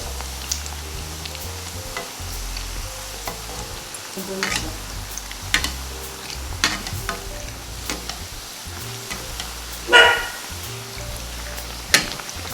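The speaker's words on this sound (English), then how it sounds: "Pouring the oil over the bake will help it puff up more quickly." Hot oil sizzles around onion fried bakes in a pot, a quiet continuous frying crackle broken by a few sharper pops and stirring clicks.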